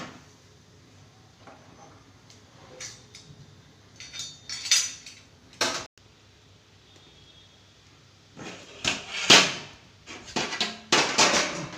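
Metal lid clanks onto a pot of simmering Tamil fish curry, a few sharp clatters and scrapes of cookware rising out of a quiet kitchen, the loudest bursts coming in a cluster near the end.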